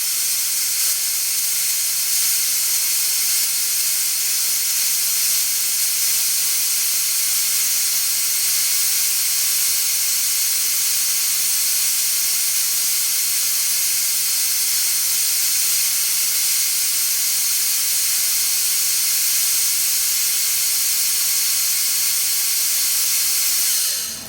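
A spray gun steadily hisses as grey paint goes onto Ferguson TEA20 tractor parts in a cold workshop, one continuous near, loud jet of air with no pauses.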